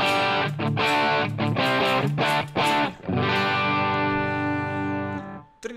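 Electric guitar through a HelixIR amp modeler with a room reverb, playing loud distorted chords and riffs that ring out with a reverberant tail, alone without talk.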